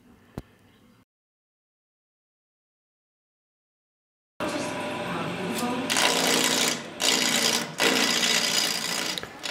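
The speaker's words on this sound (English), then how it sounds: "I'm taking a little bit of wood off with a spindle gouge on my round tenon" A wood lathe spins while a spindle gouge takes light cuts on a round tenon for a woodturner's workbench leg; after a silent gap, a loud, dense cutting roar runs on with brief dips.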